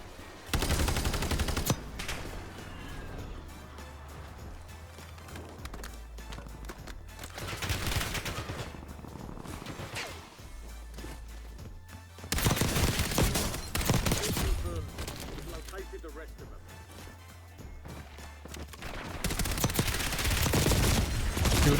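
Rapid bursts of automatic gunfire from the Warzone video game, loud and dense, with several sustained volleys separated by brief lulls across the clip.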